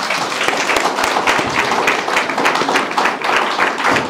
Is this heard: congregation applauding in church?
yes